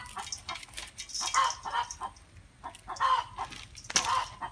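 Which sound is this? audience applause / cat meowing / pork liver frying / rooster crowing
rooster crowing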